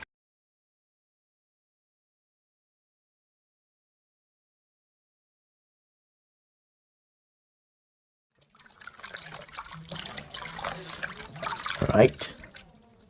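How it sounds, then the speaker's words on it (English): Leaves swished and agitated by hand in a bucket of soapy water, a wet sloshing and trickling that starts abruptly after a long silence and swells to a louder splash near the end. "We're going to take our leaves, we're going to insert them into the water,"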